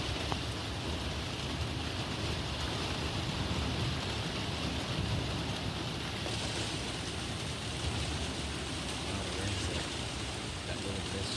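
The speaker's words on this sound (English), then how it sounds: "Thunder's louder." Severe thunderstorm with steady heavy rain and strong wind, a continuous dense wash of noise throughout, with a low rumble of thunder blended underneath rather than distinct cracks.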